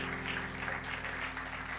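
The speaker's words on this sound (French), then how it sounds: "Est-ce qu'on peut acclamer le Seigneur?" Congregation applauding at a church gathering, a steady wash of clapping from many hands throughout, with a low hum underneath and a faint voice mixed in.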